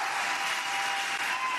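A debate audience breaks into applause, a steady wash of many hands clapping that fills the short stretch evenly and fairly loudly, with no voices over it.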